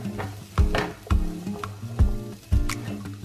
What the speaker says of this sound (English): My butter is bubbly, so we will add the cauliflower and garlic into the frying pan.